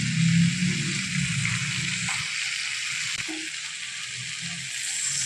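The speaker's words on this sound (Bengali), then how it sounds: "সামান্য একটু জল দেবে যাতে মশলাটা ধরে না যায়" Spices and onions fry in a pan for a Bengali fish curry as a little water goes in, a steady soft sizzle with a brief clink partway through and no talk.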